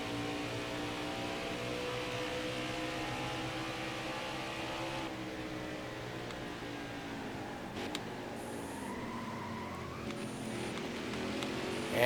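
A NASCAR Xfinity stock car engine at Road America in NASCAR Heat 5, droning with a steady harmonic whine that shifts and drops as the throttle eases through a corner, loud and continuous with no one talking.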